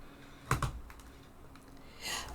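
Cat walking across a laptop keyboard, a few soft uneven key presses with a couple of sharper clicks, close and quiet in a still room.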